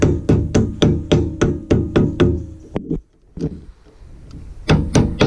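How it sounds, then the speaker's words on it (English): A hammer strikes a stuck wheel bearing on a small sailboat trailer in a fast run of sharp metallic blows, pauses for a moment, then resumes with a few more hits. "So yeah, lots of use of a hammer and various other techniques, basically whatever it takes to get it out."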